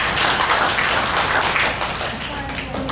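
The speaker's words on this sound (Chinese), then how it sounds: "也是一个掌声，哈利路亚" A church congregation at a Sunday service claps together, a dense, even round of applause that thins slightly toward the end.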